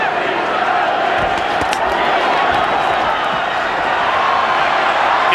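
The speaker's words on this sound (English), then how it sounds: "The crowd goes nuts" A packed boxing arena crowd roars continuously during a Vitali Klitschko fight, a dense, loud wash of cheering and shouting with scattered claps, sustained without a break.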